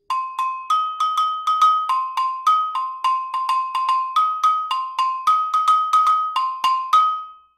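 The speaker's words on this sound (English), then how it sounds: "We then just strike the stick on top of the agogo" Agogo bells struck with a drumstick for samba, ringing out in a quick, steady run of about thirty bright metallic hits that alternate between a higher and a lower bell, close and clear with no voices.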